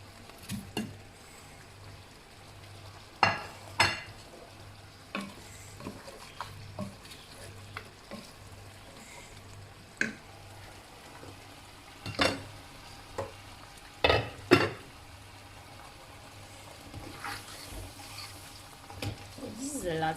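Potatoes fry and get stirred in a pot for a Cameroonian potato porridge, with a soft steady sizzle and intermittent scraping, clattering stirs spaced through the clip, no talking.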